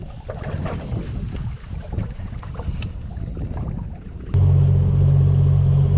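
Wind gusts across Lake Powell around a fishing boat trolling for winter stripers, a rough, buffeting rumble on the microphone; a steady low engine drone cuts in near the end. No one speaks.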